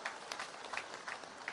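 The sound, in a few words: audience applause at a public rally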